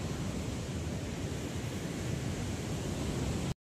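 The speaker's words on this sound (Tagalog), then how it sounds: "Lumaki na naman ang alon" Ocean waves that have grown larger wash in a continuous broadband roar, steady and fairly faint, with no distinct breaks between surges before the sound cuts off abruptly.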